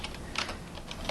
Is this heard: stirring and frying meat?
no